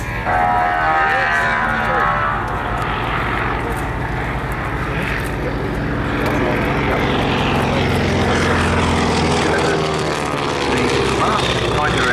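Boeing P-26 Peashooter, an open-cockpit propeller fighter, flying at an air show, its engine droning loud and steady for the whole stretch with a shifting rumble as it passes, with faint voices under it.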